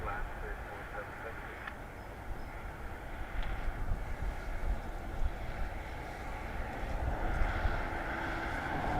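A Swiss airliner on landing at Dublin Airport, runway 28 left, makes a broad, steady roaring rumble at a distance under clipped air traffic radio voices.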